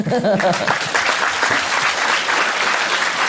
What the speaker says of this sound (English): I'm just saying I'm good and then you clap.